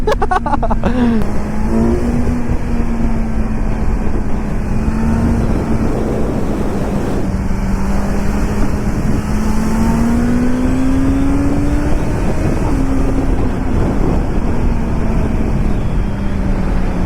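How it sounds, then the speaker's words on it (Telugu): A 2026 Kawasaki Z900 motorcycle with its stock exhaust is ridden on the road, its engine droning steadily and rising and falling in pitch under heavy, continuous wind rush. "ఈ బైక్ అయితే స్టాక్ ఎగ్జాస్ట్ తోనే ఉందన్నమాట"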